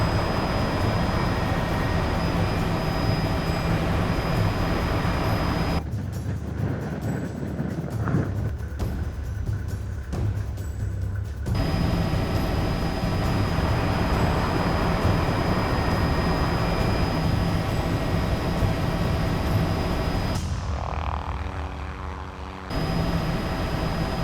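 A helicopter flies during rhino tracking in Kenya, a steady loud drone with a continuous whine that carries throughout, dipping briefly in two spots with no talking over it.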